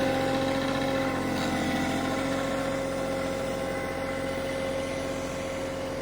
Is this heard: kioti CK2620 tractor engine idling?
yes